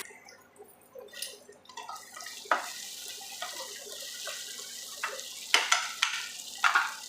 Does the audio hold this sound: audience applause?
no